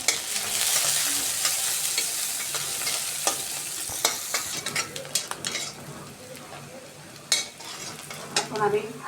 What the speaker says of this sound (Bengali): তাই আমি এখন পেঁয়াজটা একটু হালকা ভেজে নেব।